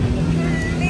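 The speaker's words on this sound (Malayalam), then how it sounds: "അങ്ങനെ നമ്മുടെ കപ്പിത്താൻ നമ്മുടെ സ്പീഡ് ബോട്ട് കരയ്ക്കടിപ്പിച്ചു" A speedboat coming ashore at Koh Larn island, its engine a steady, close, loud drone with water and a voice mixed in.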